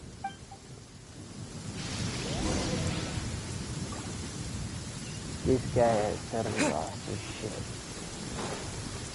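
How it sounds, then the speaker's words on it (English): A thunderstorm with rain in the video game Genshin Impact: a steady hiss of rainfall with rolling rumbles swelling in the middle, while someone talks over it. "Uh-oh! Lightning storm!"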